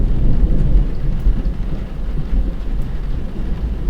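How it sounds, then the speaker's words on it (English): Steady heavy rain on a stormy night with rolling thunder, a dense, loud low rumble that swells and settles without a break. "it's starting to rain."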